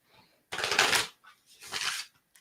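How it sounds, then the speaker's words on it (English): A deck of tarot cards is riffle-shuffled like playing cards, heard as two quick, crisp bursts of fluttering card riffles close up with a short pause between them. "So actually, I'm going to shuffle like we're playing cards."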